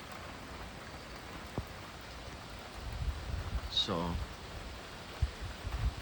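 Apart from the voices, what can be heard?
heavy rain storm in the morning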